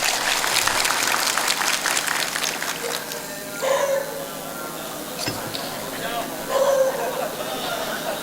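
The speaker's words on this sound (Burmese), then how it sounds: "လက်ခုပ်လေးများတစ်ချက်လောက်တီးပါလားဗျာ" An audience claps together at a literary talk in Kyaikmaraw, Myanmar. The applause is dense and loud at first, then thins out, and a voice speaks over the room afterward.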